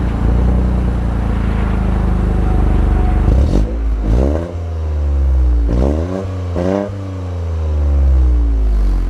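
A 2024 Toyota GR Corolla Circuit hot hatch pulls away, its engine revving hard through loud upward sweeps and gear changes, heard close and alone.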